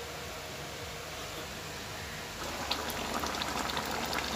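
A curry bubbling as it boils in a pot, a continuous close hiss and crackle of simmering liquid that grows fuller and louder halfway through, with no voices.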